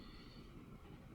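A train in the simulation game Transport Fever 2 rumbles along steadily, a continuous low rolling drone with faint higher hiss, close and even throughout.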